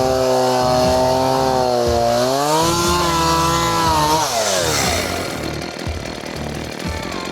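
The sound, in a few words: chainsaw running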